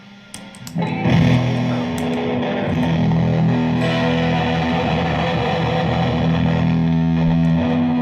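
Steady buzzing hiss and noise from EarthQuaker Devices guitar effects pedals, with harmonic hum and distortion, fairly loud and continuous after a brief quieter start.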